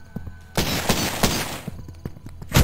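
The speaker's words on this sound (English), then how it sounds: "We're getting shot at." Enemy gunfire in the horror shooter Cultic comes in sharp, close three-round bursts, with a dense stretch of shots in the middle and single hard cracks before and after.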